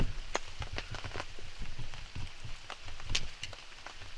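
Heavy, torrential rain pours steadily at a camp in Weld, Maine, a dense continuous patter of drops on surfaces with scattered sharper impacts and no voices.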